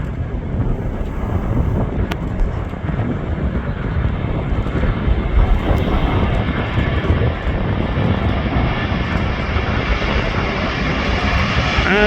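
A fixed-wing aircraft roars loudly and continuously during takeoff at Manchester Airport, the engine noise sustained and close with some wind buffeting the microphone.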